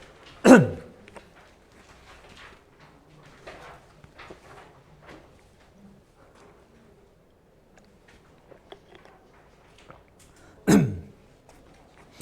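Two sharp coughs from a speaker during a lecture, one at the start and one near the end, with quiet low murmuring and faint room noises in between.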